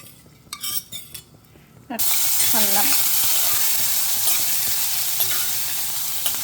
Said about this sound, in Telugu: అల్లం, ధనియాలు, మినప్పప్పు ఇట్లా ఒక్కొక్కటి వేయించుకొని, అల్లం కూడా వేగిపోయింది